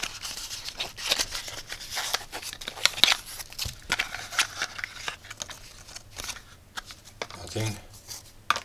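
Small AliExpress product package being opened by hand, with close crinkling, tearing and rustling of packaging in irregular bursts, and a voice speaking faintly in the background.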